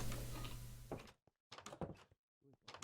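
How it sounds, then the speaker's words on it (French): A door being opened and walked through indoors, a single dull thunk with clatter standing out after a stretch of room noise, followed by short separate bumps and handling sounds. "vous passez par la porte là"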